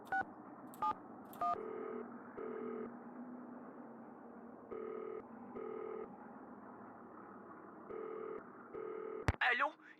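A telephone in the Nancy Drew: Danger by Design game is dialed with three quick tones, then the ringback tone repeats in steady paired bursts for several cycles before a click as the call connects.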